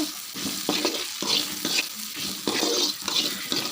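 Ingredients sautéing for a North Indian dal sizzle steadily in a pan, with repeated stirring scrapes and pulses of louder frying across the whole stretch, close by and with no talk.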